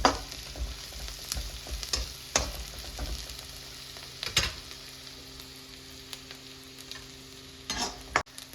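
Onions browning in a pan with ginger garlic paste, a soft continuous sizzle punctuated by sharp spoon scrapes and knocks against the pan at irregular intervals, no speech.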